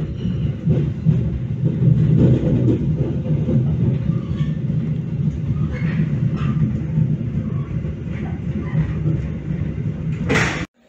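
A steady low rumble of the Bogowonto economy passenger train pulling out of Purwokerto station at night, with rattling carriages and faint clanks, ending in a sharp click.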